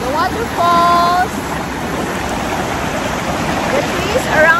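Waterfalls and a stream among stones and trees at a natural water park in Sri Lanka, heard as a steady moderate rushing of water, with brief faint tones and chirps above it.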